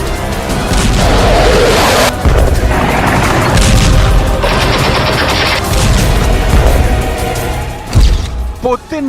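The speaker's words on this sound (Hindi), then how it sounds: "पहले धमाके के बाद बैक टू बैक कई एयर स्ट्राइक हुई।" Loud, chaotic booms and rattling bursts from back-to-back air strikes, like heavy explosions and gunfire, continuous and close, with a voice talking over them.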